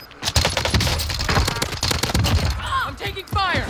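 Rapid automatic gunfire in a first-person shooter, with the Milano fired as an assault rifle, comes in dense bursts at close range while other shooting and game effects mix in.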